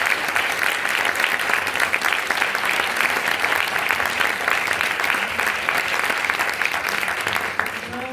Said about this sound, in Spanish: Carmen Maura, Rosa Montero, podemos volver a aplaudir